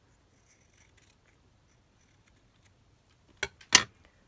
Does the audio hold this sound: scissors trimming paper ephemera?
yes